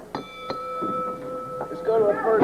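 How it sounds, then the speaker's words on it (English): Wrestling ring bell struck right against a microphone, a few sharp metallic dings with lingering ringing tones, followed by a voice speaking over the fading resonance. "Let's just ring the bell right into the microphone."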